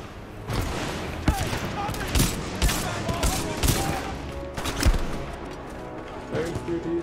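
Supporting gunfire from Titanfall 2 rattles in rapid, loud bursts with sharp individual shot cracks, steady and close throughout the clip, mixed with other battle noise.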